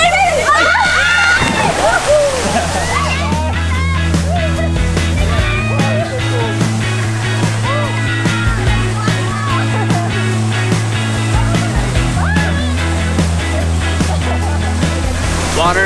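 People jumping into cold water in Baguio, with loud close splashes and sloshing as bodies hit the surface, amid excited voices and shrieks, then churning water that settles into lighter lapping.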